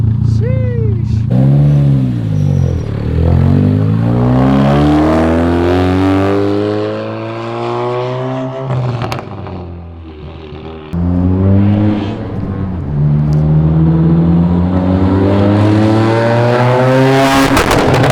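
A big-turbo Ford Focus RS revs hard on two-step, its loud engine rising and falling in sweeping pulls with crackling, stuttering bursts. The car is close, and voices chatter excitedly underneath.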